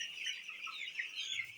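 Two-week-old broiler chicks on a farm cheep continuously in a dense, overlapping chorus of high, thin chirps, close and steady throughout.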